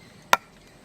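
A single sharp chop as a country crab is cut in two for a curry, one brief close knock against a board in an otherwise quiet moment.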